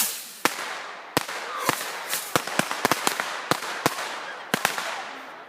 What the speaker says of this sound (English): I believe these are bottle rockets.